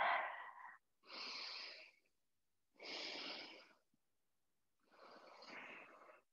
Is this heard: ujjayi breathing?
yes